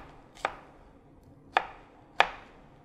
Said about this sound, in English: so half an onion will do, nicely diced